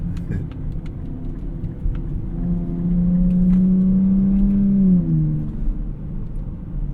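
A 2024 Nissan Z Nismo's engine rises in a steady, loud drone from inside the cabin, holding a strained pitch before dropping sharply as the transmission shifts, then settling back into road rumble.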